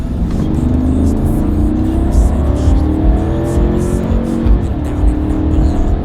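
A deep 6.2-litre V8 engine, in a GMC Denali, rumbles continuously up close, its revs rising and falling gently, with faint ticking and road noise mixed in.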